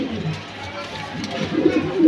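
Silver pigeons coo in soft, low, throaty bursts close by, with the calling growing louder toward the end, mixed in with someone talking.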